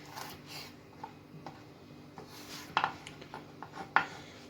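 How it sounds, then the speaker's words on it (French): Knife slicing carrots lengthwise on a cutting board while preparing a spiced veal sauté, giving faint, irregular taps and scrapes with a couple of sharper knocks near the end. "Donc pour les carottes, pareil, on va les émincer."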